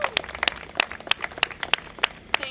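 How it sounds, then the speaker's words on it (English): Audience applause at an outdoor eco-friendly parks press conference, a light, scattered round of clapping from a small crowd, sharp individual claps standing out at moderate volume. "let's have a round of applause for Cherise Palomino"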